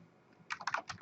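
Computer keyboard keys tapped while entering network switch configuration commands, a quick run of close, crisp clicks after a short quiet start.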